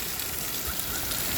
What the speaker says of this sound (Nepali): यहाँ चाहिँ 24 घन्टा पानी यसरी फरफराइरहन्छ हैन। पानीको फहरा यसरी फ्याँकिराख्छ।